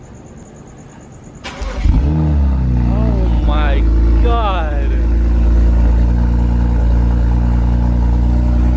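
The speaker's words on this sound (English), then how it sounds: "We're gonna get the cold start right now." A BMW 335i with the N54 engine and aftermarket downpipes cold-starts with a sharp cranking burst, then settles into a loud, deep, rumbling high idle that runs to the end. An excited voice exclaims over the start.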